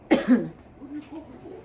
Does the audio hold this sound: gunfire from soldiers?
no